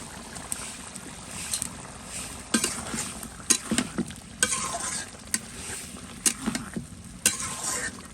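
Spice paste sizzling in hot oil for a meat curry, stirred with a spoon in irregular scraping strokes and clinks over a soft continuous fry, close and fairly quiet.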